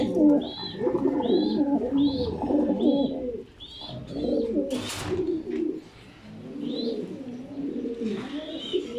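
Domestic pigeons coo repeatedly at close range in a loft, with soft rolling calls overlapping one another and a brief flutter partway through.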